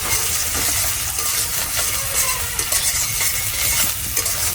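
Chopped onion fries with bay leaf in a pan, a dense close sizzle under steady scraping and clinking of a spoon against the metal, no speech.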